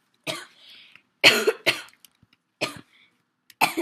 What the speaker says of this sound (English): I'm like laughing about myself coughing at the same time as coughing.